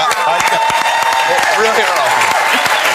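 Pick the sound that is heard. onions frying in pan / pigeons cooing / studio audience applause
studio audience applause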